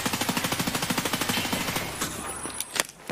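Rapid automatic gunfire in the shooter game Escape From Tarkov, a fast steady burst of loud close shots for about two seconds, followed by a few scattered single cracks.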